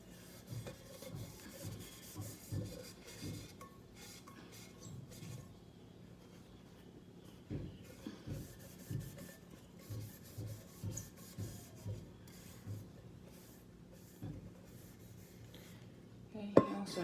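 A damp cloth is rubbed over a rhinestone-covered tumbler cup, making faint, close, intermittent scrubbing and squeaking strokes with quiet pauses.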